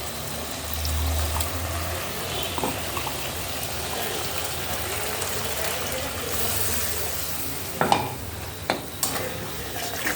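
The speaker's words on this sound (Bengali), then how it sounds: "আদা, কাঁচা লঙ্কা, পেঁয়াজ, রসুন যে পেস্টটা আছে, পেস্টটা দিয়ে দেবো।" A paste of ginger, green chili, onion and garlic fries in a pan with a steady, close sizzle throughout, joined near the end by a few sharp scrapes and taps of a spatula.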